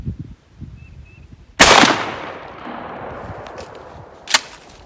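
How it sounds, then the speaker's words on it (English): A single sharp, loud blast from an 835 shotgun firing a 1.5-ounce load of number 3 steel shot through a modified choke, ringing out in the open and then decaying, with a later fainter crack. "We're shooting it out of the 835 through a modified choke."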